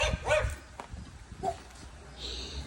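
Territorial dogs bark from a yard outdoors in a few short, moderately distant bursts, with a faint whimper between them and light footsteps nearby.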